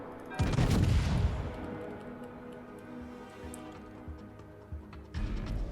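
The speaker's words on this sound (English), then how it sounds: "We'll give them another volley." Heavy naval guns of the KMS Tirpitz battleship boom in a loud broadside volley within World of Warships, followed by a long rumbling tail and a second blast near the end.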